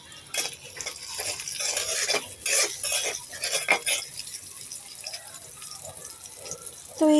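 Onions and chilies frying in a pan are stirred with a utensil, giving irregular metallic scrapes and clinks over a soft sizzle, close and moderately loud, with no speech.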